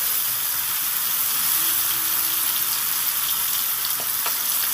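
Bitter gourd frying in a covered pan, a steady close sizzle and hiss of hot oil running continuously with a few faint pops and no other sound.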